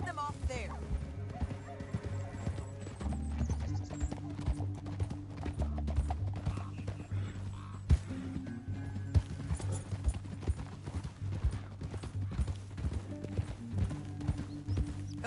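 Hooves clip-clop in a steady trotting rhythm under low droning music, with occasional horse sounds and voices in the mix, from the video game Red Dead Redemption 2.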